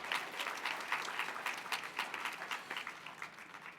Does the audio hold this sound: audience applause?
yes